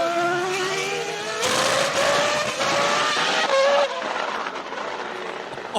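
BMW FW26 Formula 1 car's V10 engine shrieks in high-pitched revving bursts, with sharp blips and rising sweeps, loud and fairly near, over roughly six seconds.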